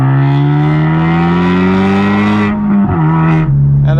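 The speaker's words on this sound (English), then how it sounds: "320 horsepower Honda Civic Type R" A Honda Civic Type R FK2 engine rises in a loud, sustained rev, holds briefly, then drops and steadies back toward a lower tone, heard close and alone.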